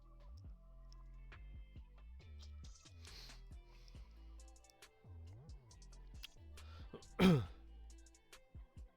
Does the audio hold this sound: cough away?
yes